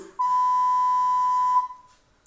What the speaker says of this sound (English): So before the beep